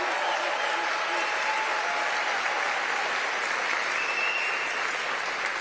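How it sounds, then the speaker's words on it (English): A crowd applauds at a live speech, honoring security detail and veterans: thick, even clapping sustained throughout at a steady level, with no break. "Give them a round of applause"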